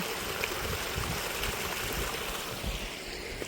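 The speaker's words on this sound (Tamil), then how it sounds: "இங்கே ரொட்டாங் பாஸில் இதெல்லாம் ஐஸ் உருகி தண்ணி வந்துட்டுருக்கு" Meltwater from melting ice at Rohtang Pass near Manali running as a steady rushing, gurgling stream, close and continuous with no break.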